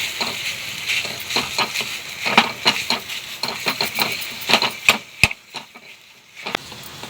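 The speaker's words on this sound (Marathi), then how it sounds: "खवा आपण गुलाबी होईपर्यंत परतून घेऊ" Khoa roasting in a pan while a spoon stirs it repeatedly, giving a steady bright sizzle with frequent scraping clicks and knocks against the metal, close and fairly loud, with no voices.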